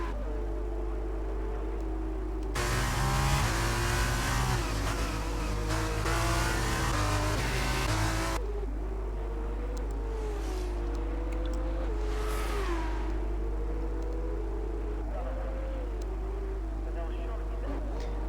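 Race cars lapping a track during a racing series round, with engines droning steadily under commentary and one loud stretch of close revving that gives way to fainter passing engines.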